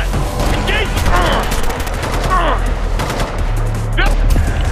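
Automatic gunfire rattles in the video game Ghost Recon: Future Soldier. The bursts are loud and continuous, mixed with shouted squad callouts.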